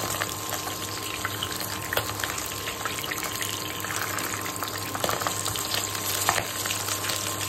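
Pabda fish fry in hot spattering oil, a dense, continuous sizzle with a steady hum underneath, with a few faint scrapes and taps as the soft fish are carefully flipped.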